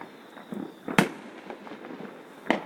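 Fireworks burst in a small-town display, with two sharp loud cracks and a few softer distant pops over a low crowd-like background.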